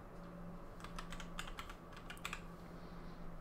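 Quick bursts of typing on a computer keyboard, clustered clicking keystrokes in the middle of the stretch, quiet and close against a faint steady hum.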